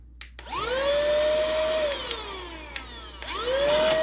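A handheld vacuum with suction and blowing modes whines up to speed, runs briefly with a steady high motor tone, spins down, then starts again, loud and close.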